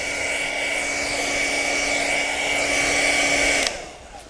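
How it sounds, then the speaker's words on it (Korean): A hair dryer powered by a Bluetti AC200MAX portable power station blows with a steady, high whine and airy rush for several seconds, then switches off abruptly near the end. "이렇게 드라이기 이렇게 먹을 드라이기까지 이렇게 쓸 수 있어요."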